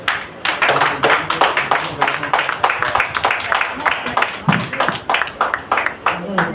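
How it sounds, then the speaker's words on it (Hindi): Audience clapping at a Dussehra event at a de-addiction centre, a rhythmic, loud round of hands beating in a steady unison pulse, with voices mixed in underneath. "तो एक बार उनके लिए जोरदार तालियां हो जाए"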